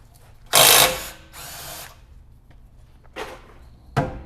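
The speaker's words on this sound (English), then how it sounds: "Next, we're going to be loosening this lower shock bolt." A power tool loosening the lower shock bolt on a 2022 Toyota Tundra during a lift kit install, with four short whirring bursts, the first loud and the later ones briefer and quieter, heard close by in a quiet garage.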